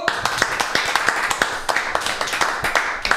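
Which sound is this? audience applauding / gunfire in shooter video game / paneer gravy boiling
audience applauding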